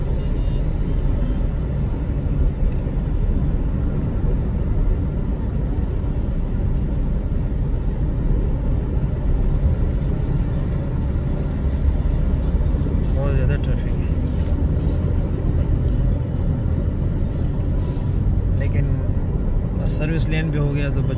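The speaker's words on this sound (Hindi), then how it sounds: "यहाँ भी ट्रैफिक ज़्यादा आ रही है।" Heavy road traffic in a jam near Wapda Town, heard as a steady, loud rumble of engines and tyres running throughout, with someone talking over it.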